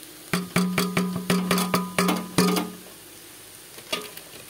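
Onions and green chillies going into hot oil with browned potatoes, heard as a series of sharp rhythmic scraping and stirring clatters with a sizzle underneath, then a quiet pause and one last clink.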